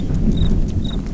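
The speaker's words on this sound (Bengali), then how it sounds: "হালকা ঝিঝি পোকা ডাকছে।" Crickets chirp at night with two short, evenly spaced bursts over a steady low rumble of wind, with no talk.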